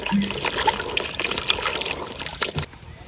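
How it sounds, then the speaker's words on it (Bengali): Chopped garden vegetables are rinsed in water for khichuri, with short splashing and trickling sounds close by that stop abruptly near the end. "সব সবজিগুলো কাটা শেষ, এখন ভালো করে ধুয়ে নিলাম।"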